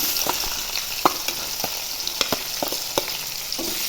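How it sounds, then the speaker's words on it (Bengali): Onions and chillies fry in hot oil with cumin and bay leaf, a constant sizzle punctuated by light crackles and pops; no talking. "ভালো করে ভেজে নেব"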